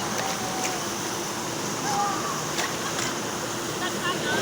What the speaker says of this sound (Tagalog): Para din siyang dagat, ang lalaki ng alon doon, oh.